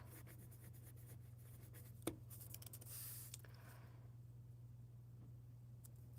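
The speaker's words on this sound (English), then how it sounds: "I love working with a pencil." Pencil scratching on paper at a live-streamed coffee and card-making session, a series of faint close strokes over a low steady hum, with a brief louder scrubbing burst partway through and no talking.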